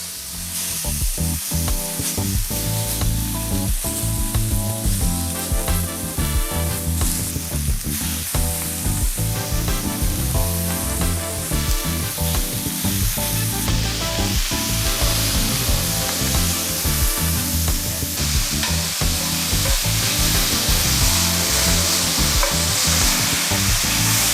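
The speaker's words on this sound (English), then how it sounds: "Now we're gonna go in with our steak." Steak hitting a hot pan for steak and cheese sliders, a loud, dense, continuous sizzle and crackle of frying with occasional stirring scrapes, heard close and alone with no talk.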